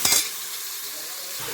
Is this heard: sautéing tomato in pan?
yes